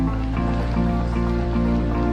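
Steady rain falls on a street in Little India, Singapore, a continuous close wash of drops and splashes with a faint tonal hum running beneath it.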